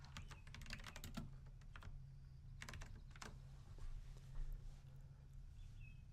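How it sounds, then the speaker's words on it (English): Keys clatter on a computer keyboard as a message is typed, with quick bursts of clicks separated by short pauses, faint and close against a low hum. "Next, we'll type our message."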